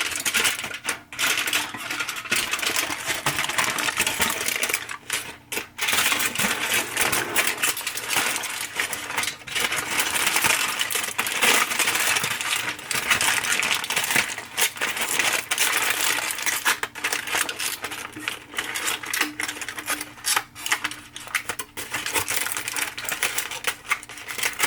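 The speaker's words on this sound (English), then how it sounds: "We're gonna create a packet by gently folding up the edges." Edges of a foil or paper packet folded up around salmon fillets dressed with soy sauce, a continuous close crinkling and crackling that runs throughout with no talking.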